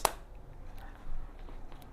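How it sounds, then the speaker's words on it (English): A single sharp hand clap rings out at the very start, made to get a new puppy's attention during play with another dog, followed by a quiet room. "You try a clap, hey!"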